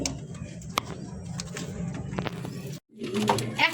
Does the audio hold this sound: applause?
no